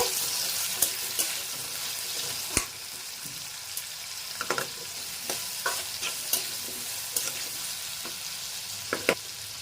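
Pointed gourd and shrimp with turmeric frying in a pan, a steady close sizzle broken by scattered scraping taps as a utensil stirs the food, no speech.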